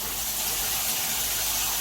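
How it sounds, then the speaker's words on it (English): Water running through a drenched potted Monstera Thai Constellation plant and draining out the bottom, a continuous gushing hiss steady for the whole moment, close and fairly loud. "Just let the water run out of the bottom"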